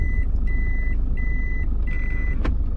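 A car's reversing alarm beeps as the gear is shifted into reverse: a steady electronic tone repeating in four or five evenly spaced pulses over a constant low engine hum.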